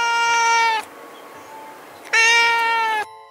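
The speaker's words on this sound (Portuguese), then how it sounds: "aquele miado estranho depois da 1 da manhã" Two long, strange, tonal meows from a cat late at night, each drawn out and rich in harmonics, close and loud, separated by a quiet pause; no voices.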